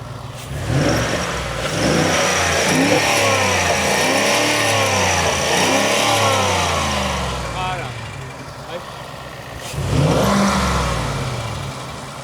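A Ford F-150 pickup engine runs and revs up and down in smooth, rising and falling sweeps for several seconds, settles to a lower idle, then gives one more short rev near the end, close and loud.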